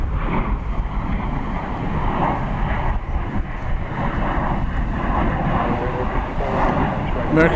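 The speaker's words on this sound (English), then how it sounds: "American Flight 1230 is arriving from Albuquerque, New Mexico. It's an Airbus A319 on that one." An American Airlines Airbus A319 arriving from Albuquerque, New Mexico, rumbling steadily and loudly at an airport, its broadband roar mixed with wind buffeting across the whole stretch.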